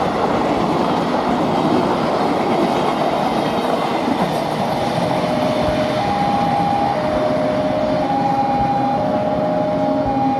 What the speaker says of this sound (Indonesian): Kereta api Prambanan Ekspres dari Solo Balapan ke Kutoarjo.